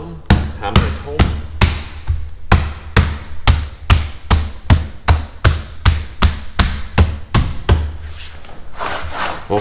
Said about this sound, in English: So we have to hammer it down,